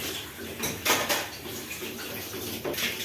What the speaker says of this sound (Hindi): ये देखिए मेरी दीदी खोए को भूंज रही है